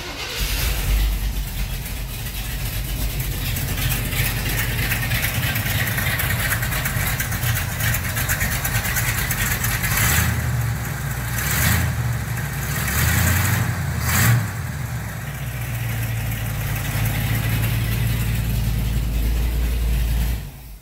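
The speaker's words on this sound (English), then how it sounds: "So hopefully this truck will fire right up, and we'll see how much vacuum we have sitting idle." A Chevrolet C10 truck engine starts and settles into a steady, loud idle with a continuous low rumble, interrupted by a few brief clunks and level changes midway.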